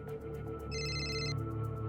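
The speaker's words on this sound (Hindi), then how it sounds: "मिश्रा जी का फोन।" A telephone rings in a quiet indoor setting, a steady electronic tone sounding once briefly in the middle of a low background hum, with no speech over it.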